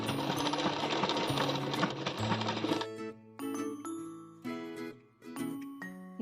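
Sewing machine stitching a pillow cover, a steady fast mechanical rattle for the first few seconds, then the motor stops and scattered ticks and clicks of the mechanism follow.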